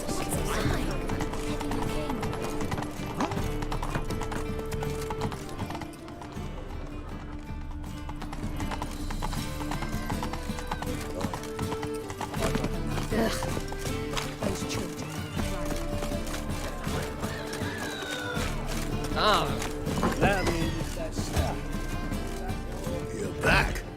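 Geralt's horse Roach from The Witcher 3 gallops with steady rhythmic hoofbeats under music and in-game dialogue, with occasional snorts and a whinny, continuous and close throughout.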